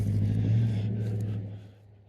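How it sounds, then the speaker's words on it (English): A car rumbles past nearby, its engine noise loud at first and then fading away. "those cars are loud"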